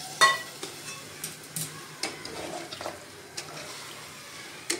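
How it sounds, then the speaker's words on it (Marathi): Hot water goes into mutton trotters in a pressure cooker for paya soup, giving faint splashing, stirring and clinks in scattered bursts. "त्याच्यामध्ये आता आपण गरम पाणी ओतूया"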